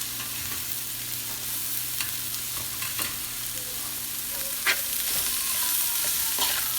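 Chopped carrot, capsicum and cabbage frying for paneer fried rice, a steady loud sizzle with a low hum underneath and occasional scraping and stirring knocks from the pan, no voices.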